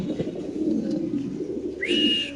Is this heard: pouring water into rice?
no